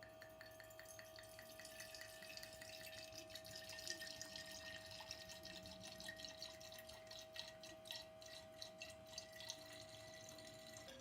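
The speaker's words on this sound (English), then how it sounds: "What we're going to do is we're going to decant this" Wine pouring into a glass decanter, a soft, steady trickling and splashing with faint drips, heard close and quiet under a constant background tone.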